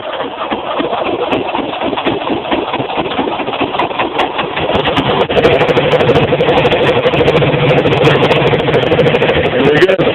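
A tractor engine primed with starter fluid after sitting a day or two runs loud and close, settling into a heavier, steadier throb about halfway through, with a voice speaking over it.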